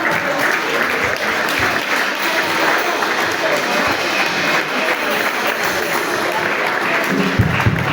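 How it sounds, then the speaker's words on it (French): A church congregation at a Sunday service of an evangelical church in Cameroon applauds, the men clapping together in a dense, steady wash that holds at an even level for the full eight seconds. "je vous demande aux hommes d'applaudir pour ces mamans"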